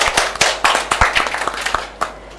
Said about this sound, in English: Can we give her a very big clap?